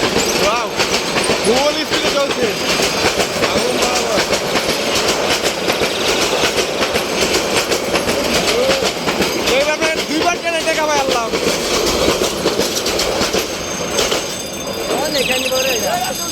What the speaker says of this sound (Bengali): ফেরার পথে আবার ট্রেনের দেখা